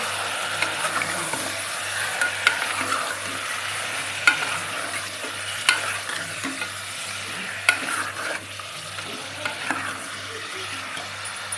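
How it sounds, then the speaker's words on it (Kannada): Mutton chops fry in a pan with a continuous close sizzle, broken by regular clinks and scrapes of stirring. "ಈಗ ಮಟನ್ ಹಾಕ್ಕೊತಾ ಇದ್ದೀನಿ."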